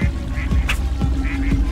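Ducks quack in the video game Hide Time, several short nasal calls close by over a constant low background drone, loud and filling the brief moment.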